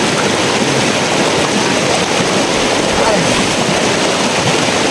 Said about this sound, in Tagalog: malakas na agos ng tubig